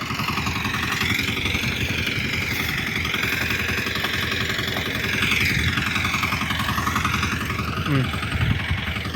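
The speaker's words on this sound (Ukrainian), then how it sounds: "Продовжуємо вкатувати мотоблока." A Kentavr 1010DE heavy walk-behind tractor engine running steadily during break-in out in a field, a continuous loud chugging drone that varies slightly in pitch, with someone talking over it.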